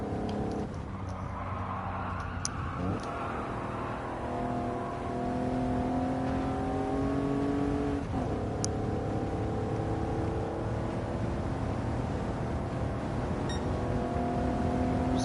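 Race car engine in Gran Turismo 7 during an online daily race, droning steadily throughout with rising and falling pitch sweeps as it accelerates and shifts, loud and continuous with no talk.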